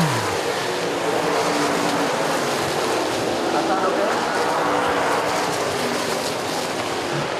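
Race cars at Central Texas Speedway roar past in a dense pack, making a continuous loud, broadband engine wash that stays steady throughout.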